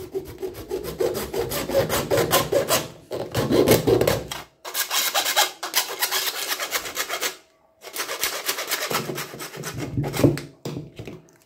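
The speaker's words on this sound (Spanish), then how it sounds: "lo vamos a volver a cortar aquí con nuestra hoja de segueta" A hacksaw blade cuts through material while making a homemade TV antenna, giving repeated rasping back-and-forth strokes in several long bursts separated by short pauses, close and loud.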